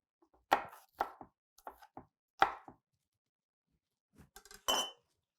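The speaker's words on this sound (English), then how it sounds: "cutting up all these veggies" Vegetables chopped with a knife on a cutting board, a handful of sharp, separate thwacks at an uneven pace with brief pauses, close by and with no talking.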